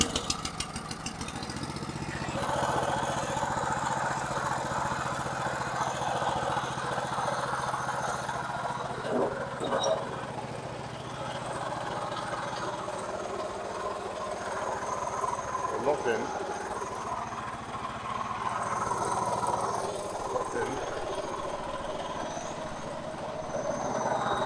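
A 1963 Bolens Husky 600 lawn tractor engine cranks and catches, then settles into a steady, fairly loud mid-pitched idle that runs throughout with minor fluctuations.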